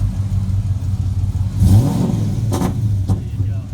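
A V8 hot rod engine at a car show idles with a low rumble, then gets a couple of quick throttle blips that swell and fall away, loud and close.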